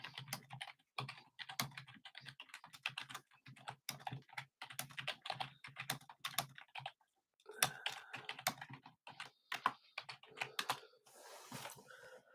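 Keys clatter on a computer keyboard as a message is typed into a live stream chat, quick irregular bursts of close, crisp taps with short pauses between words.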